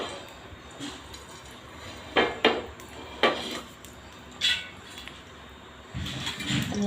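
Large metal tawa griddle handled in a kitchen before frying paneer, giving several sharp clanks and scrapes of metal against metal over a low background.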